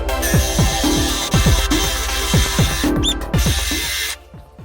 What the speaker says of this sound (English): scribe the outside of this diameter first, and then we'll countersink accordingly